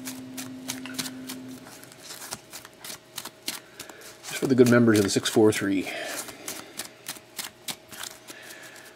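Sports trading cards from a box break are riffled and shuffled in a steady stream of quick, crisp flicks, close up, with a brief stretch of talking partway through.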